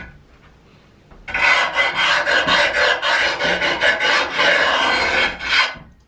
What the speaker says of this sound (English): on the corner here, you want to scrape it along the edge, like that